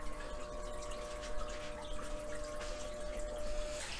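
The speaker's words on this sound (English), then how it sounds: "So I'm in here doing final water changes." Water trickles and drips during a home aquarium water change, a faint, steady pouring with light splashes and a low pump-like hum underneath.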